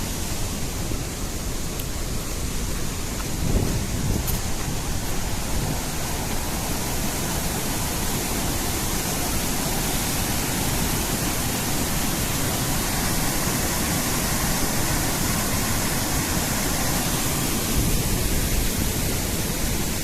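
A powerful, roaring rush of water from the Randha waterfall in spate pours continuously without letup, a loud broadband torrent up close with no voices.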